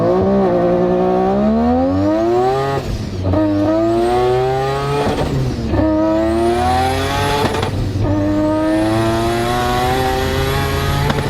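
A rotary-engine race car accelerates hard and loud, pitch climbing steeply through repeated upshifts, each gear a rising howl with brief dips between, close to the listener.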